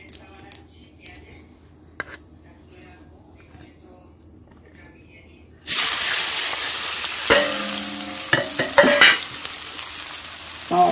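Cumin, chilli and onion frying for fish curry break into a sudden loud sizzle halfway through, with stirring clatter against the pan; quieter room sounds and faint clicks come before.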